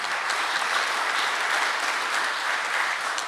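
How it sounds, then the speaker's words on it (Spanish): An audience at a lecture-hall reflection event gives Dr. Juan Carlos Fischer Tudela a round of applause, a continuous, even roar of many hands clapping together for a few seconds without pause. "un aplauso también para él"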